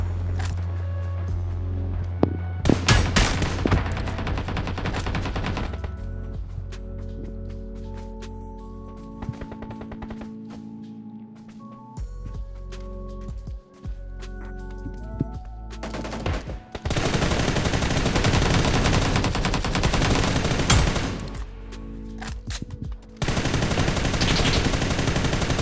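Gunfire in the PUBG New State mobile game, with bursts of rapid automatic shots and single cracks scattered across the stretch, loud and close, separated by quieter gaps.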